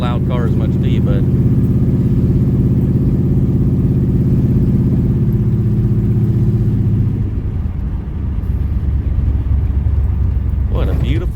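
A loud 1974 Ford Gran Torino Elite with a leak, its engine rumbling steadily and close up while driving, then shifting lower and rougher near the end.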